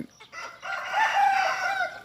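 A rooster crows once loudly and close by at a morning field-edge farm, preceded by a brief cluck or two from chickens, no talking.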